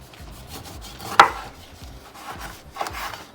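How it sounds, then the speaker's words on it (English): A knife cuts through lemons on a wooden board, giving one sharp close chop followed by a softer second cut, with quiet rubbing between. "And we're gonna cut our lemons"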